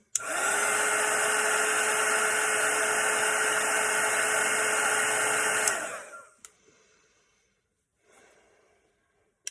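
A hair dryer blows steadily and loudly on a wet watercolor painting for about five seconds, then winds down and stops, leaving near silence with a couple of faint handling clicks.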